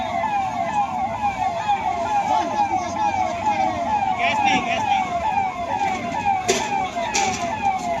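Fire engine siren wailing continuously at a fire in the Yamunapuram sector of the Mahakumbh fair in Prayagraj, loud and close, its rising and falling sweeps repeating steadily over road and vehicle noise with brief sharp clatters near the end.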